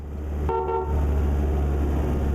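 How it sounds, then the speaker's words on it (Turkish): A Fiat Ducato van's plain horn in Euro Truck Simulator 2 gives one short, steady toot over a loud, continuous engine drone. "kornamız sade, dat dat. Havalı kornamız yok yani."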